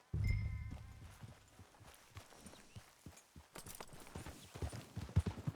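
A horse in Red Dead Redemption 2 walks with soft, irregular clip-clop hoof steps, quiet and close, after a brief low rumble at the start.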